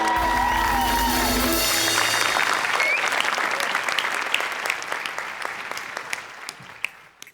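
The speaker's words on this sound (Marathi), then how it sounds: "एकदा उभं राहून टाळ्या वाजवा." A standing ovation from the studio audience of a Marathi comedy show, loud dense clapping that begins under lingering music and cheering, then thins into scattered, fading individual claps.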